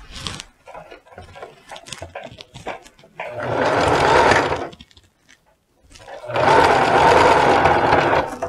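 A sewing machine stitches the seam of a round-collared jacket. A few handling clicks and taps come first, then two sustained bursts of rapid, close, loud stitching with a short pause between them.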